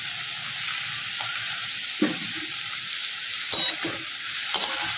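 Ridge gourd sizzles in a pan with frying onions, a steady close hiss under a low hum, with a few soft stirring clatters and bursts as pieces are moved, and nobody speaking.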